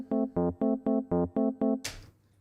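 A waltz pattern tapped out on a programming wheel music machine: eight evenly spaced pitched plucked notes in a steady three-beat feel, close and clear, ending in a short burst of noise.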